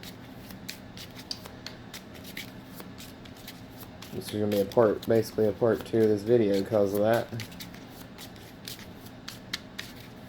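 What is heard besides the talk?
shuffling Biggest Baddest Baddie game cards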